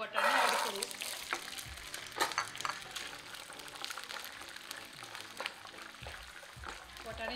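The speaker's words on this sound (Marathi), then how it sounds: "वाटाणे छान तेलावर परतून घेऊ" Green peas fry in hot oil in a pan, giving a faint, steady sizzle with occasional stirring, quiet and close, partly under a voice.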